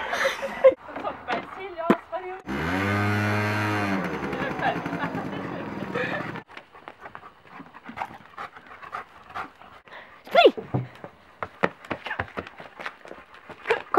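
A dog pants rapidly and heavily close by, then footsteps and scuffling follow with scattered movement noises, while people talk.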